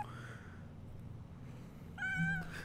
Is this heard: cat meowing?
yes